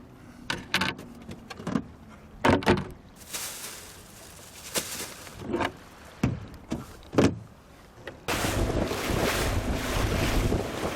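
Wind gusts buffet the microphone on a lake during a fishing outing, coming in repeated loud bursts of rumble and then settling into a sustained roar near the end, with water sounds beneath.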